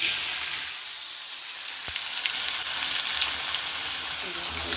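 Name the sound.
frying potatoes in oil after tilapia fish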